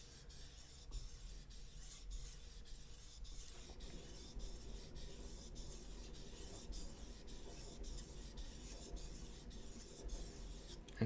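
A fillet knife is drawn across a sharpening stone in steady back-and-forth strokes, each one a soft, even rasp in a regular rhythm, close by and quiet.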